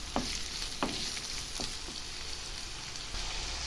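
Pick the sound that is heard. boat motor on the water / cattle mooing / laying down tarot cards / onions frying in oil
onions frying in oil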